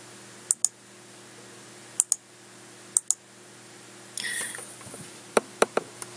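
Computer mouse clicks at a desk, sharp double clicks spaced about a second apart, a short rustle, then a quick run of several more clicks close to the microphone.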